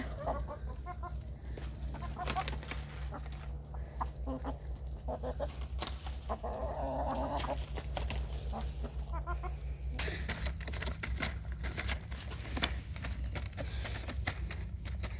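Chickens cluck and peck over a steady low background hum, several hens close by with intermittent busy clucking and a few sharper calls, no talk.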